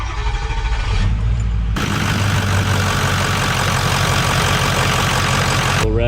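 A Ford 6.0L Powerstroke diesel engine starts up after a brief cranking, then settles into a loud, steady, rumbling idle that continues until a sudden cutoff near the end.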